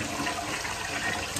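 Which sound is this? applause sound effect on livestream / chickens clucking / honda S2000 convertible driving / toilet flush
toilet flush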